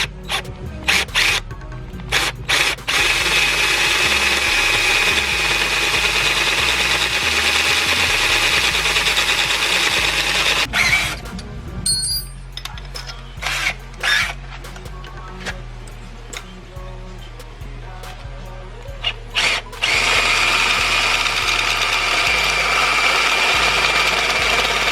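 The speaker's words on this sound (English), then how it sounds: "So I'm going to drill a hole, starting with a 3/8 and finishing off with a 1-inch bit." Drill boring a hole through a metal spark plug non-fouler with a 1-inch bit, loud rattling grinding that runs in long bursts, drops to softer intermittent chatter midway, then surges back to full grinding.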